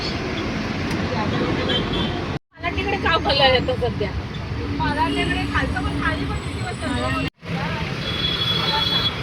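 A passenger bus pulling away from Saidham on a Mumbai to Lanja trip, its engine and road rumble droning steadily underneath people chatting inside the cabin.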